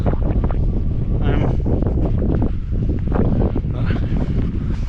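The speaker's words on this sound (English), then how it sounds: "Wind's picking up a bit now" Wind gusts buffet the microphone near a ridge top on open military grounds, a loud, continuous rushing roar with brief swells and no clear pauses.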